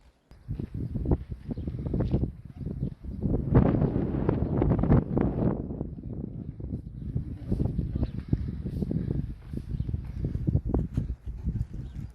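Strong gusting wind blasts and buffets a microphone outdoors during a severe windstorm that tore roofs off, rumbling and roaring continuously for about twelve seconds with surging peaks, no talk heard.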